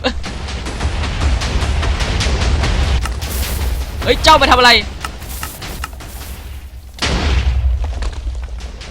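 Booming TNT explosions in the video game Minecraft during a TNT Wars match: heavy rumbling blasts that fill the first few seconds and burst again near the end, with someone talking excitedly over them.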